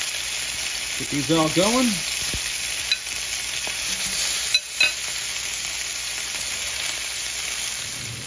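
Lamb chops searing in avocado oil in a pan, giving a steady close sizzle throughout with a few soft clinks, while a person speaks briefly over it.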